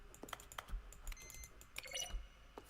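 Button presses in The Stanley Parable: Ultra Deluxe come as a quiet run of quick clicks and taps like keystrokes, spaced irregularly with a few brighter tonal blips, heard alone without speech.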